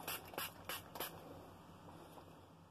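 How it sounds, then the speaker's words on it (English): Hairspray is spritzed onto hair in several short hissing bursts close to the mic, four quick sprays near the start, followed by quiet. "hairspray on my hair so I could have it stick."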